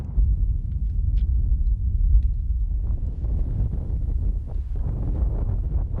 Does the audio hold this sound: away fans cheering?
no